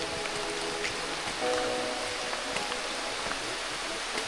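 Rain falls on a hiking trail near Tawai waterfall, a soft, steady hiss at low volume with no voices.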